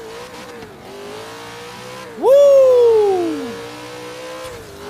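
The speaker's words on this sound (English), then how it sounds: "Will it do a burnout?" A supercharged Chevy Nova drag car in Forza Horizon 3 does a burnout: a low engine drone jumps into a loud, rising then falling scream with tire squeal lasting about a second, then settles back to idle. A voice briefly exclaims.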